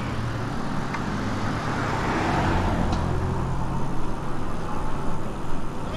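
Road traffic heard from an e-bike on a commuting route, cars rumbling past nearby with a broad rushing swell and steady roadway noise, no talk.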